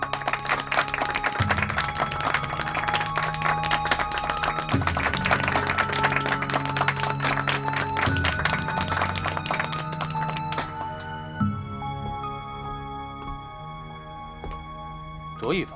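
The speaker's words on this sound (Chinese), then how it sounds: "鼓掌！" Applause at a company board meeting rolls on for several seconds, mixed with a strong musical score and low thumps, then thins out as the music carries on.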